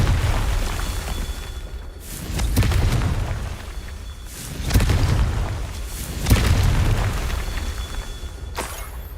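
Confringo fire spell blasts in the Hogwarts Legacy video game: four loud, close explosions spaced about two seconds apart, each a sharp burst followed by a deep rolling rumble, with no talk over them.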